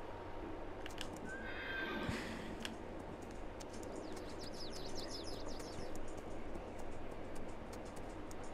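A horse neighs in the farming video game Farming Simulator 22, a clear whinny ringing out over steady hoof clip-clops and a continuous low background rumble.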